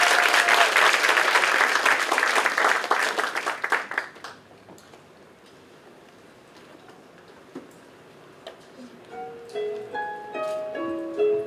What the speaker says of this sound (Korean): 여러분 박수로 시작하겠습니다